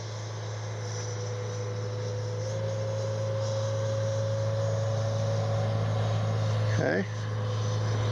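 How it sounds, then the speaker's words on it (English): A Freewing Avanti S 80mm electric ducted-fan RC jet flies overhead, a steady whining hum that holds its pitch and then sweeps sharply as it passes near, with brief talk. "That's an amazing flying jet."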